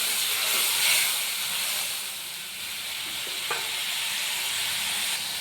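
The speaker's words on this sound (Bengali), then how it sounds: "মশলাটা ভালো করে কষিয়ে নেব যতক্ষণ না তেল ছাড়ে।" Spice paste of chili powder, salt, turmeric and ginger paste frying in oil in a pan, a steady close sizzle and hiss with faint stirring scrapes, no voices.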